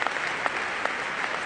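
Audience applause at a talk on community and creativity, dense steady clapping from a large crowd with a few sharper individual claps standing out, continuous throughout.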